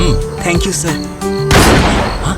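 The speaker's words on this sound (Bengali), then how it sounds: "এটা শিওর গুলির শব্দ, আর গুলি বিল্ডিংয়েই চলেছে।" A gunshot fired inside a building in a crime drama scene: someone briefly speaks, then a single sudden, loud, sharp blast bursts out and decays into a rough, ringing tail.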